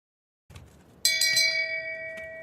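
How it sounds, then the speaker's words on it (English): A bell rung at an NHL watch party for a Washington cross-checking penalty in a Golden Knights game: one sharp, bright ding with a long ringing decay over low room murmur. "Ring the bell, baby."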